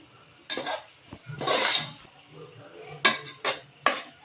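Egg biryani masala with salt being stir-fried in a pan: a spoon scrapes and clatters against the metal in irregular bursts, close and fairly loud, with a faint sizzle beneath and no speech.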